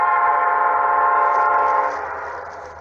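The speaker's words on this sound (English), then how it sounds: "Oh, it's an SD40!" An SD40 diesel locomotive rolls past, its engine a loud, sustained tonal roar with harmonic whine that fades somewhat toward the end as it moves away.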